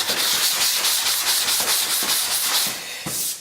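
Sanding block rubbing back and forth over body filler on a fiberglass panel, a steady rhythmic abrasive scrape with regular strokes, close and fairly loud, no talk.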